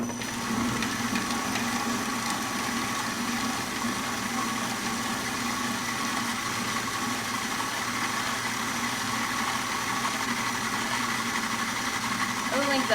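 A Sammic CKE-8 food processor grinds kale, apples and lemon with a steady, continuous motor whine and churning rattle that holds level throughout, close and fairly loud.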